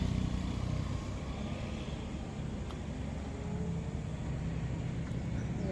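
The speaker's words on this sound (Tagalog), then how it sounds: "Takot man, daming sasakyan." Steady rumble of many vehicles passing along a road near a bridge, a continuous moderately faint wash of engine and tire noise with no talking.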